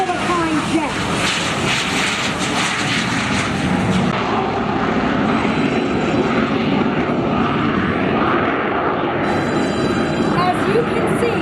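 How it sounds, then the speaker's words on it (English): A Messerschmitt ME-262 jet fighter passes over a warbird airshow at Monroe, a loud sustained jet roar filling the whole stretch, with crowd voices and talk underneath. "this is an amazing and unique airplane called the ME-262"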